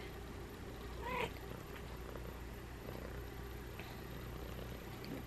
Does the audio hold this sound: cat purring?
yes